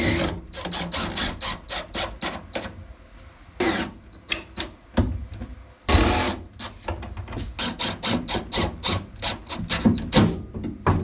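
A big-head self-tapping screw is driven into a Chevy car body in rapid bursts, loud, close and rhythmic, with the tool pulsing on and off in short repeated surges.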